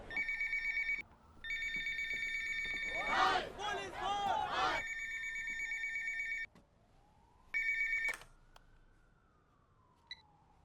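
An electronic telephone ring sounds in repeated bursts with pauses between, briefly interrupted by a louder burst of voices, then rings once more, in a Tamil movie scene.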